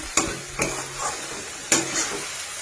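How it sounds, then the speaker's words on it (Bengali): Masala spices for achari chicken frying in a pan with a steady sizzle, while a spoon scrapes and stirs in three or four distinct strokes, close up with no talking. "এটা মশলাটা কষাতে কষাতে আমি চিকেনগুলোর মধ্যে দিয়ে দেবো"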